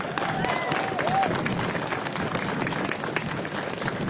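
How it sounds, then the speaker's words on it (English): Steady applause from a sizeable outdoor crowd at a Milwaukee street renaming ceremony for Martin Luther King Jr., dense continuous clapping that holds at an even level for several seconds. "give a warm clap for all those dignitaries who have made it out today"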